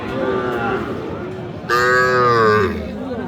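A Sahiwal bull calf at a cattle market moos once, loud and close, a drawn-out call lasting about a second over a background of crowd murmur.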